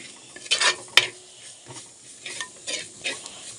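Chili powder and whole spices such as cloves, cinnamon and cardamom frying in a pan while a spoon scrapes and stirs them, giving several sharp metallic clinks over a soft, steady sizzle.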